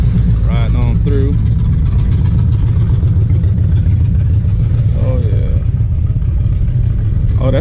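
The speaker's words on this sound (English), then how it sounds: "Again, a bunch of bikers riding on through." Several motorcycles ride through a town street one after another, a steady loud engine rumble that stays close throughout, with brief voices talking over it.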